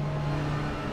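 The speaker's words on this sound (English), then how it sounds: "Revving engines on the start line" Race car engines rev on the start line at Laguna Seca in the iRacing simulator, a loud, continuous, buzzing drone held for one second with no voices.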